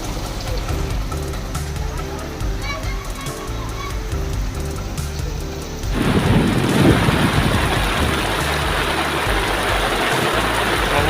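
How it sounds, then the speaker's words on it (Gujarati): Heavy rain pours down on a village in Mahuva taluka, Bhavnagar district, Gujarat, in a dense, steady roar that grows louder and fuller partway through, with a low rumble underneath. "બિલ્લા ગામમાં ધોધમાર વરસાદ પડ્યો હતો"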